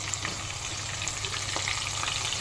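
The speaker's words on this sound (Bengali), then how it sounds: "মাছগুলো আমি মিডিয়াম হিটে বেশ কিছুক্ষণ ভেজে নেব, যাতে করে মচমচে খেতে হয়" Cornflour-coated tilapia pieces frying in plenty of hot oil over medium heat, a dense, even crackling sizzle with scattered pops, close and continuous.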